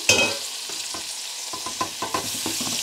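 Boiled greens hit a pan of frying onion and garlic with a sharp initial sizzle that settles into steady crackling, punctuated by a series of spatula stirs and scrapes nearby.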